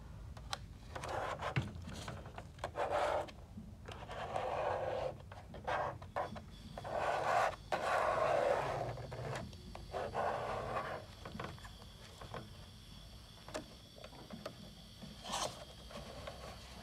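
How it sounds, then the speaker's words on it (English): A credit card scrapes and rubs across an adhesive speedometer face overlay on a Chevy gauge cluster in repeated close, gritty strokes with brief pauses and faint clicks between them. "I'm gonna apply pressure and get it on there with the little credit card"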